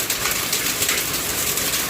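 Rain and hail pour down in Nepal in the late afternoon, a dense, even patter and hiss that fills the whole moment without a break, fairly loud and close, with no voices.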